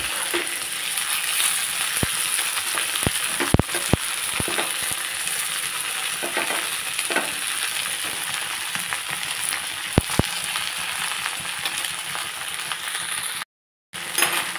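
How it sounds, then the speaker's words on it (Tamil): Long beans with onion and green chili stir-fry in a pan, a continuous loud sizzle broken by sharp clicks of the spatula on metal and a brief dropout near the end; no talking. "பயறு, பெரிய வெங்காயம், பச்சை மிளகாய் எல்லாத்தையும் போட்டுடலாம்."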